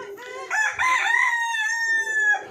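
A chocolate Orpington rooster on a free-range native chicken farm crows once, loud and close, in a drawn-out, wavering call lasting about two seconds.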